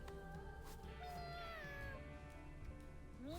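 Cat meows in the video game Mewgenics, several drawn-out, rising and falling calls over steady game music, fairly quiet overall.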